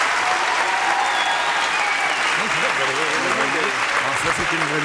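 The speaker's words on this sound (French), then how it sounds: "Ça s'applaudit." A French TV studio audience claps steadily and loudly for several seconds in a dense, even wash, with a voice talking faintly underneath toward the end.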